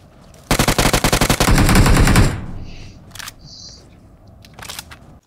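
Automatic gunfire in the battle royale game BGMI, heard as a rapid rattling burst followed by a sustained loud stretch of shots lasting about two seconds, then fainter scattered shots and game sounds.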